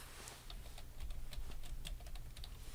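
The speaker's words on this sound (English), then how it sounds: "I'm just going to type in Mickey Mouse" Someone types a search into Google on a computer keyboard, a faint, quick run of light key clicks in an uneven rhythm over a low background hum.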